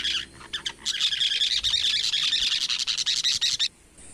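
A fifí bird sings close by in an outdoor setting, a rapid series of high, bright chirps that run steadily for several seconds before stopping, clear and alone without voices.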